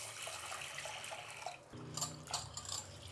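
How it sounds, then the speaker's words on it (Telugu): Lentils for a Karnataka-style sweet sambar are washed in water in a kitchen, with sloshing, trickling water and light clinks of a vessel, close and moderately loud. "ముందుగా మనం పప్పు కడుక్కునేద్దాము."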